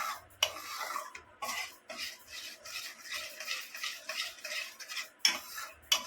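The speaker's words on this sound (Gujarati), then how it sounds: "આપણે એને ધીમે ધીમે હલાવશું શેકાવા દઈશું થોડીક વાર" Rajgira flour being roasted in a pan and stirred slowly, producing rhythmic, close scraping strokes of a spoon against the metal, each stroke a rough brushing swish, with occasional clinks.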